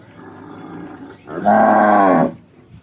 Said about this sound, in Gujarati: અને બનાસકાંઠાની લોકલ ગાય છે.